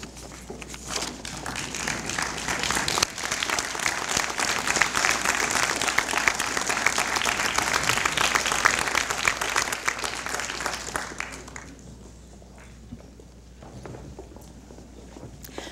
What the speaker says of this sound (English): acknowledge their love and support with a round of applause